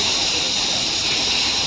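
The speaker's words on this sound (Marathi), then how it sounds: "पाणी ओव्हरफ्लो झाली टाकी" A water tank overflowing, with a steady, hissing rush of pouring water that holds loud and even for the whole moment, close by and alone.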